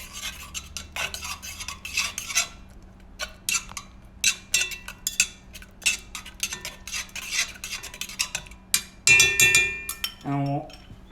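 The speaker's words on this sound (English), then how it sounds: "And we'll add in our mustard into there. Give it a mix" Utensils scrape and clink against a pan as mustard is stirred into a dish, a steady run of sharp scraping strokes, a few louder knocks near the end, fairly close and clear.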